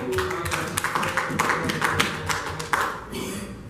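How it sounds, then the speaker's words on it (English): A congregation claps during a church service, a fairly close, uneven patter of hands with some louder individual claps standing out, fading slightly toward the end. "Let's give God a round of applause for a second."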